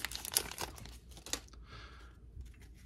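Foil wrappers of Allen & Ginter trading card packs being ripped open, with a quick run of loud crinkling and tearing followed by softer rustling.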